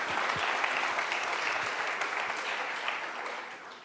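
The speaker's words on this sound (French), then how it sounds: "Sous vos applaudissements." An audience at an annual entrepreneurs conference applauds, a dense steady wash of clapping that holds for several seconds and fades slightly at the end, with no talk over it.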